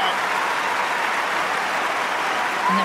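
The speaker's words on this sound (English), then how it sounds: "And the crowd getting involved." Steady applause from a tennis crowd at the 2019 Wimbledon final, a dense, even wash of clapping that holds at full strength throughout, with a faint voice surfacing near the end.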